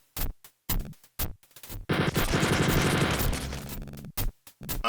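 Gunfire against a boss in a video game: short, loud bursts separated by silences, then a sustained automatic volley of about a second and a half, followed by more clipped bursts.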